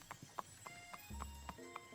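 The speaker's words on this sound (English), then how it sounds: "Colonel Sanders, he's arriving at school. On a horse." Video game horse hooves clip-clop in a steady, even rhythm as the horse arrives, each hoof strike a distinct mid-pitched knock over a low droning music bed.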